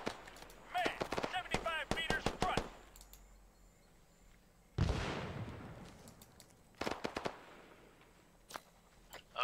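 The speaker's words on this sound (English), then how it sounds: "Enemy fire! Taking fire!" Enemy gunfire in Arma 3 S.O.G. Prairie Fire: rapid bursts of loud shots crack near, then a single heavy blast with a long rumbling tail, followed by further scattered shots in a jungle firefight.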